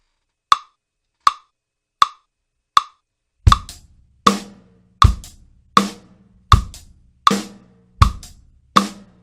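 A drum kit plays a 16th-note groove: four lone bright ticks at first, then a steady pattern of crisp hits layered over deeper thumps, evenly spaced and close, with no talking.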